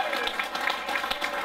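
An audience at the Bamfest Bedale acoustic festival applauds in a steady, dense wash of clapping that stays fairly even and moderately loud throughout.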